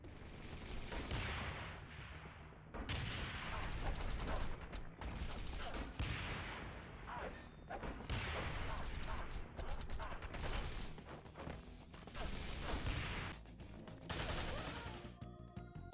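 Dense gunfire fills combat in the video game Wanted: Dead: loud, near-continuous volleys of shots and blasts with brief gaps, and a narrating voice underneath.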